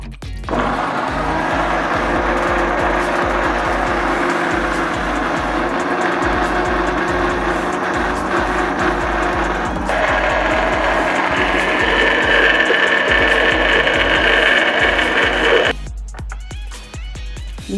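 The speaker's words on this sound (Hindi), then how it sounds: "अब इसको हम करते हैं ग्राइंड।" Kitchen grinder running steadily for about sixteen seconds, blending shawarma sauce with olive oil and vinegar; a loud continuous whirring motor whose pitch shifts partway through before cutting off near the end.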